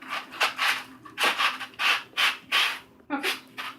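Drywall being sanded by hand with fine 220-grit sandpaper: a series of close, rhythmic rasping strokes, roughly eight passes separated by brief pauses, with no talking.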